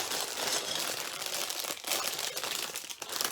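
Plastic bags holding LEGO pieces crinkle and rustle continuously nearby, a steady papery crackle with small shifts in loudness and no speech.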